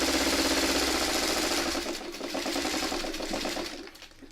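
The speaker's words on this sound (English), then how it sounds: "I'm just going to sew across this piece here, right here" A sewing machine stitches across a fabric placemat, a steady, fast mechanical whir with rapid needle chatter, close and continuous, slowing slightly near the end.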